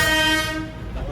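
A Darjeeling toy train running beside a road sounds a loud, sustained horn blast up close, which fades into a low rumble of the moving train.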